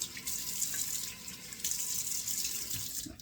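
Steady stream of tap water runs into a bathroom sink while alum is rinsed off after a wet shave, a continuous close splashing hiss with no voices.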